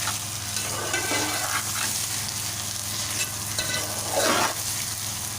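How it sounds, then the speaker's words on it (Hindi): Food fries vigorously in a pan on high flame in a home kitchen, a steady close sizzle with occasional louder surges as it is stirred, and no talking. "ये मैं फ्लेम थोड़ा तेज़ कर दूँगी, मतलब हाई फ्लेम के ऊपर इसको मैं भून लेती हूँ।"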